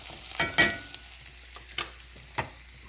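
Garlic frying in a pan, a soft steady sizzle with a few sharp crackles and pops scattered through it, near and fairly quiet, with no voices.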